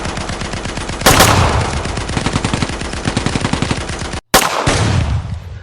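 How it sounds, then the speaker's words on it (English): A loud, rapid burst of explosive bangs fires in a dense series, pauses briefly, then erupts again in a second volley. "a shattering series of explosions tear the night apart."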